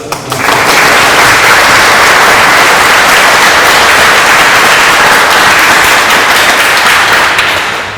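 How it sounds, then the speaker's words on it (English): Loud, dense applause from a crowd at a sixth grade elementary school graduation, honoring the teachers; the clapping starts abruptly and holds steady and close throughout. "Can we give a round of applause?"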